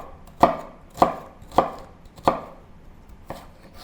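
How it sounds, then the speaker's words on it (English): Dried shrimp being rough-chopped with a knife on a cutting board, five sharp, evenly spaced thuds close by, the last one softer, with no talk. "I need to rough chop the dry shrimp and also cut all other ingredients into"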